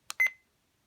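A Reizen talking atomic travel alarm clock gives a short electronic beep when one of its buttons is pressed: a faint click, then a brief bright tone that fades into silence.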